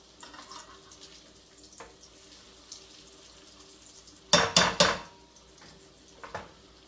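Pheasant pieces for pheasant parm are flipped in a frying pan, giving a short cluster of loud metallic clatters and scrapes over a quiet background, with no talking.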